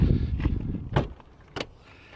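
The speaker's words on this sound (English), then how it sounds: "one of my favorite features of the back has to be this window here, which will open when the car's unlocked" An electric motor whirs briefly as the rear window of a Toyota Land Cruiser Prado opens. Soft clicks and thumps sound close by, with no talking.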